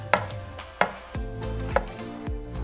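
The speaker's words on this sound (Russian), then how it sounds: "Следующим нарезаем шиитаке. Их режем как обычно," Four or five crisp knife strokes slicing shiitake mushrooms thud against a cutting board at a steady, unhurried pace, close up with no talking.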